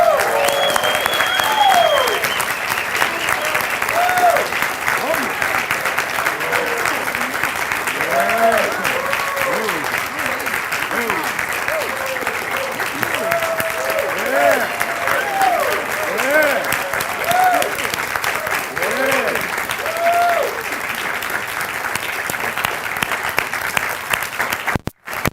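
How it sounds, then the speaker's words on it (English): A rally crowd in Atlanta gives sustained, loud applause for a 2016 presidential candidate, dense clapping with cheers and whoops running throughout before cutting off abruptly. "will you stand and give a rousing applause to the next President of the United States of America, Jill Stein?"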